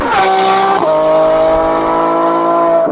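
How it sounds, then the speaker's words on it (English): A loud, high-revving naturally aspirated V12 engine of a tuned Ferrari F12 with an aftermarket exhaust roars continuously, its pitch dropping slightly after a shift, with a sharp, raspy exhaust tone throughout. "It is such an amazing experience to drive a naturally aspirated V12 from Ferrari"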